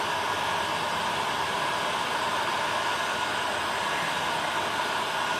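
A hot air gun blows steadily on the end of an angled plastic fitting, softening it before flanging; a constant loud broadband whoosh with no breaks and no talking.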